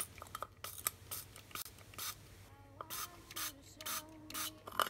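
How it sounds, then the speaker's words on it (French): Turquoise spray paint hisses from a can in a string of short, close bursts, each a quick sharp spray separated by brief pauses and light handling noises. "on va tester avec de la peinture spray"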